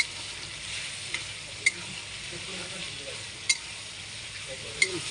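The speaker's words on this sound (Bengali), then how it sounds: "পেঁয়াজটা হালকা হালকা ভাজা হয়ে এসছে" Onions sizzle in oil with salt as they are stirred, a steady close hiss punctuated by three or four sharp clinks of a utensil against the pan.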